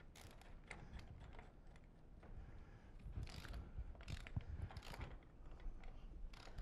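T-bolts on a mechanical pipe joint are tightened by wrench, giving faint, repeated ratcheting clicks in short irregular bursts over a low background.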